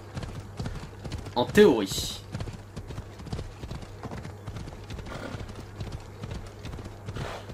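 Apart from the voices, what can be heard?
horse hooves galloping in Assassin's Creed Odyssey video game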